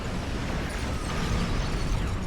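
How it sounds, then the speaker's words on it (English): Cannon scatter volley explosions in a video game: a dense, continuous roar of overlapping blasts and bursts, loud and steady throughout, no talking. "The scatter volley is what I need."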